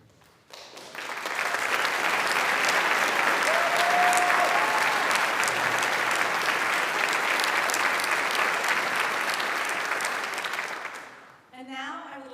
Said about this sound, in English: Will you please stand so we can give you another round of applause?